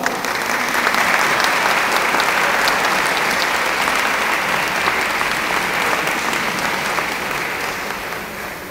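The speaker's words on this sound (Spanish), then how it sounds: "vamos a dejar el tiempo para brindarle un fuerte aplauso" Loud, sustained applause from a large crowd at a talk, steady clapping that carries on throughout and tapers slightly at the end.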